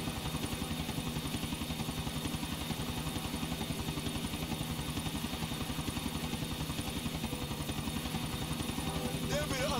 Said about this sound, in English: There'll be the other chopper.